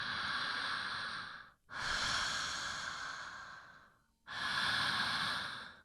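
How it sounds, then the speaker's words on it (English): Slow, heavy open-mouth breaths during a guided breathing exercise: two long airy exhales separated by short pauses, then another begins, close and fairly loud with no talking. "practice the open mouth breath, moving your body, maybe making a little sound"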